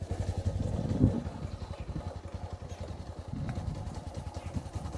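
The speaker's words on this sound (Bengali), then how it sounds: "আমরা বাইকেই যাচ্ছি" Motorcycle engine running during a ride through village roads, a faint, steady pulsing putter with a brief louder knock early on, low and continuous under wind.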